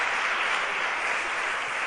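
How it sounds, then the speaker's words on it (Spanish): Audience applause at a live literary event celebrating Sabina, a dense, steady clapping from many hands filling the whole moment with no voices. "Os advierto que si aplaudís cada aforismo"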